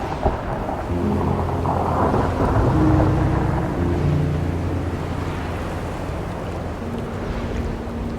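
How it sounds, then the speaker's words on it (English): Giant ice chunks calve from the Perito Moreno glacier in a deep, sustained thunderous roar that swells and rumbles for several seconds with no voices. "constantly shifting and calving giant chunks of ice with thunderous roars"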